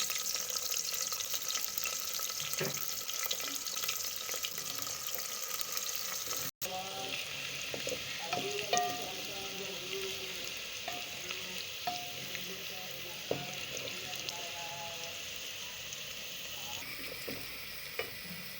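Onions sizzle steadily in hot oil with a bright, crackling hiss, and after a brief cut the frying carries on with occasional stirring scrapes and pops.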